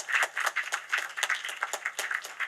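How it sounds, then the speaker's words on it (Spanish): Audience applauding panelists at a law and technology conference, a small crowd's brisk, uneven clapping heard fairly close and continuing throughout. "le damos un aplauso a los panelistas del panel 4"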